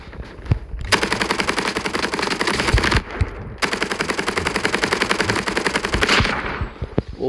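Rapid automatic gunfire in Call of Duty: Mobile rattles in long sustained bursts, with a brief pause between them and scattered single shots at the start and end.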